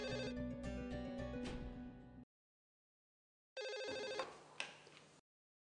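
A telephone rings in a domestic drama scene, with a two-second burst of bright electronic tones, a pause of more than a second, then a second burst, fairly faint and with nobody speaking.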